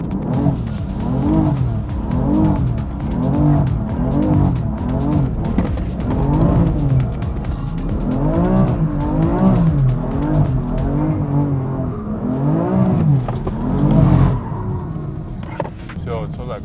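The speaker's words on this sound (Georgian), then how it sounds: "ეხლა ცოტა გავათვობ საბურავებს" A BMW M3 revs hard at a launch, its engine rising and falling in repeated loud sweeps with a broad rushing undertone from spinning tires, close and continuous throughout.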